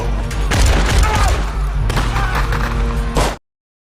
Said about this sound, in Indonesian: sehingga terjadilah baku tembak di antara mereka